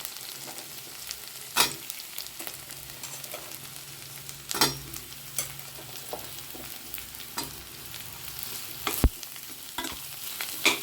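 Ridge gourd pieces frying with already browned onions in a pan: a steady soft sizzle broken by sharp metallic clinks and scrapes of a stirring spoon at irregular intervals, close by with no talking.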